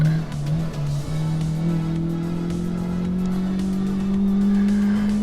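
A Honda Civic Type R FK8, heavily overpowered, is driven hard around the Ebisu West circuit, its engine droning loud and steady with a rising pitch as tires squeal through the corners.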